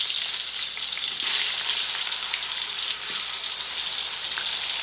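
Sliced eggplant frying in a pan gives a steady, loud crackling sizzle that swells briefly, with no talking.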